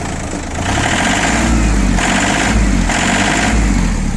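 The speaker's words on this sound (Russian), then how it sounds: "Все, больше газовать на холодную не будем." A cold ISEKI TA275 compact tractor engine revs loud and close, rising and falling in three or four repeated bursts of throttle over a steady idling rumble.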